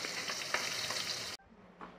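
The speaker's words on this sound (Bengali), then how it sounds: "পটল, কাঁকরোল, আলু সব ভাজা হয়ে গেল।" Potatoes, pointed gourd and spiny gourd fry in oil with a steady, close hiss and crackle that cuts off abruptly, leaving a faint quieter sizzle.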